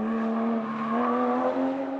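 Toyota 86 sports car engine on a mountain pass test, a steady, loud sustained drone of a four-cylinder under load, holding near one pitch with slight swells.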